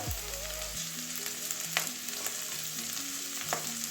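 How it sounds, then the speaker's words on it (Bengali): Chopped onion and green chili sizzle steadily in hot oil in a pan, with a few clinks of a spatula against the pan and no one talking. "পেঁয়াজটা ভাজা হয়ে গেছে আমার কাঁচা লঙ্কা দিয়ে দিয়েছি"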